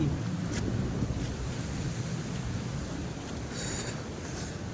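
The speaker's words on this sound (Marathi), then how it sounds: "बघा लाट बघा कशी" Steady roar of sea waves churning against a fishing boat off the Konkan coast, with gusty wind buffeting the microphone throughout.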